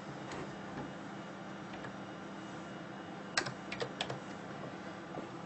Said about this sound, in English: So I'll just type that in.